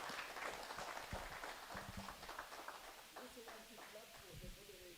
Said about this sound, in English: You want to clap for the panelists.